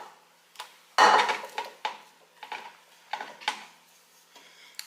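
A spatula scrapes and taps against a mixing bowl holding leftover batter, a series of short clinks and scuffs, one sharper knock near the start, then lighter irregular scrapes close by with no talking.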